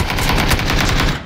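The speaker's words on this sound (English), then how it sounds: "You know you can fire that thing like two shots in a second, right? That DBS?" Rapid bursts of gunfire from a DBS double-barrel shotgun in PUBG, a loud, dense string of shots in quick succession with no pause across the short stretch.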